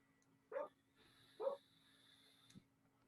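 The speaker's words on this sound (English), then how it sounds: "It's my dog barking." A dog gives two short, muffled barks about a second apart, heard at a distance against a low background hum, then a fainter yip follows.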